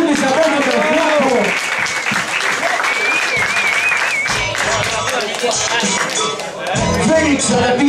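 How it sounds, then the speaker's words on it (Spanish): Loud audience applause and cheering at a live freestyle rap battle, a dense burst of clapping and crowd noise lasting several seconds with shouting voices over it. "¡Fuerte ese aplauso para el flaco!"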